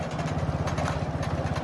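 A motorcycle engine idles steadily nearby, with a low, even putter of rapid regular pulses throughout and faint outdoor noise on top.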